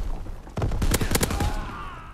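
A KGM21 submachine gun fires in Call of Duty WW2, a rapid burst of about eight loud, close shots in quick rhythm, followed by a fading ringing tail.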